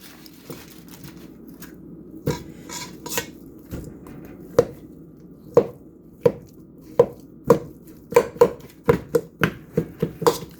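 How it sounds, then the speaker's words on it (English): Yams are chopped with a knife on a board, with sharp, isolated knocks at first that build into a quicker, steady run of close, distinct cuts, with no talk over them. "Chop up my yams."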